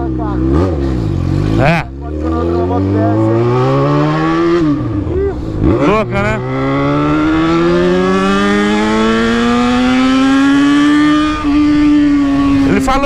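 A Yamaha XJ6 motorcycle accelerating on a ride, its engine rising in pitch through repeated gear changes, loud and close, with brief drops between shifts and a long climbing pull at the end, while riders talk over it.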